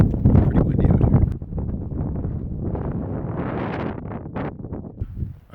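Strong wind gusting across an open desert campsite near Las Vegas, a loud, steady roar with buffeting bursts against the microphone, continuing throughout without let-up.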